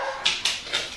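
A dog gives three short, high yips and whimpers spaced about a quarter second apart, close and fairly loud over a steady background hiss, with no talking.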